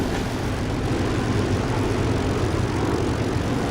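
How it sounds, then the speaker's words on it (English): Planes take off from a runway, a dense continuous engine roar with propeller-like rumble, steady and loud throughout. "there's actually some planes taking off right now"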